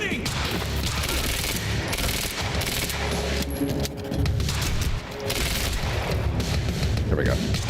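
Gunfire in the action game Quantum Break, with repeated shots and impacts layered over busy game effects, dense and loud throughout with a brief dip near the middle.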